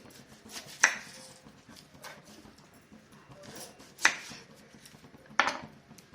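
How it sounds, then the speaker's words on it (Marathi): Two onions being chopped with a knife on a board for paneer pulao, with a few sharp, separate knife strikes spaced irregularly against a quiet background. "त्यासाठी इथं दोन कांदे चिरून घेते"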